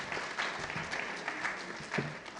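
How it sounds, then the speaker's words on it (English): Audience applause for a chorus at a book launch event, a steady wash of clapping from a gathered crowd, moderately loud and continuous without pause. "a round of applause"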